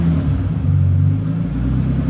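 A Nissan Skyline engine runs with a deep, loud, close rumble that swells briefly as it revs, a steady low mechanical drone throughout.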